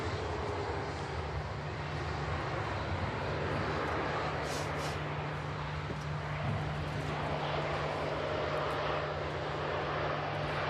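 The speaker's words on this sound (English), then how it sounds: "TUI 787-9 Dreamliner. So from Cancun, left 8 hours 47 minutes ago." A TUI Boeing 787-9 Dreamliner arriving from Cancun at Manchester Airport gives off a steady, broad jet roar that stays loud and even throughout, with no voices over it.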